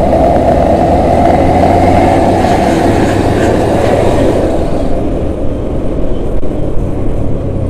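A train rumbles past a railway crossing loudly and steadily, a dense low roar with rattling wheels that fades slightly toward the end.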